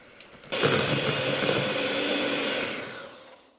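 Electric hand mixer whirring steadily through cocoa cake batter, switching on abruptly and running at a constant high-pitched buzz for about three seconds before tapering off near the end.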